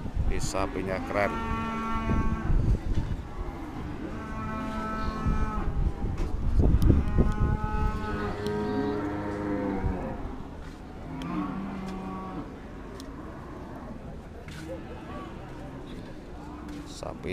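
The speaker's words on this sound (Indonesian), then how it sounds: "ada sapi-sapi betina, ada sapi Bengho Jawa," Cattle moo repeatedly at a farm holding female cattle, Javanese Bengho and Brahman breeds, several drawn-out calls close by and overlapping, with people talking and some low background rumble.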